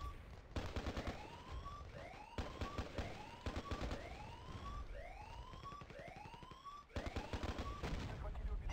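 An MG36 machine gun firing in a video game, with rapid bursts of automatic fire that come back again and again, mixed with rising and falling whistling game effects and some background voices.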